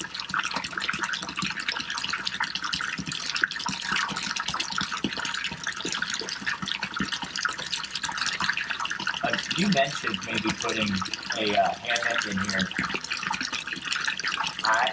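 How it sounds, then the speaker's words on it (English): Continuous trickling water runs into a pond or tank outdoors in Kansas, a steady broadband splash and burble that holds throughout while people talk nearby. "Right now, just running water."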